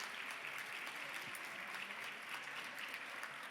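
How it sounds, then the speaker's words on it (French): An audience applauds the nominees at an awards evening, a steady, even patter of clapping from a sizeable crowd that holds for several seconds without pause. "On peut les applaudir."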